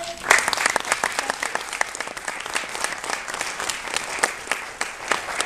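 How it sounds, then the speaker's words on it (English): A graduation crowd applauds steadily, many hands clapping in a dense, even patter from a moderate distance for several seconds. "Could we give a big round of applause for our parents who could not attend this graduation today?"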